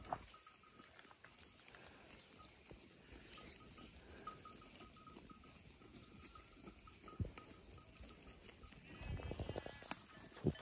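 Sheep and lambs graze on a high mountain pasture near the summit at around 2400 metres, faint scattered bleats and a soft bell over a steady hiss of wind and open-air ambience, with nothing close or loud.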